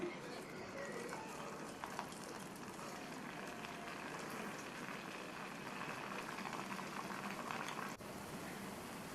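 Small idli batter bondas sizzling and bubbling in hot oil on a stove turned down low, a steady dense crackle running throughout with a voice speaking over it.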